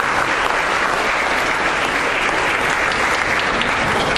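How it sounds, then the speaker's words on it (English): Steady, dense applause from a graduation audience, loud and continuous throughout with no gaps or voices standing out. "give yourself a round of applause"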